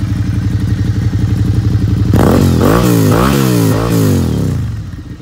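A Suzuki SV650 V-twin motorcycle engine idles with a lumpy, rhythmic pulse, then revs loudly several times in quick rising-and-falling bursts, close by.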